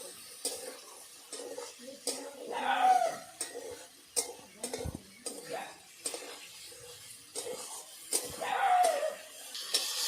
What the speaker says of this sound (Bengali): ভালো করে নাড়াচাড়া করে দেবো যাতে নিচে না লেগে যায়